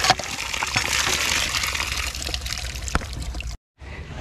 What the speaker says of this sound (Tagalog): Malakas na may tubig niya pag binomba mo eh.